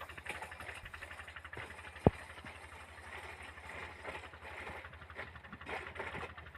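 A 25 HP Peter diesel engine runs steadily while pumping water to irrigate a wheat field, giving a continuous throbbing drone with one sharp click partway through.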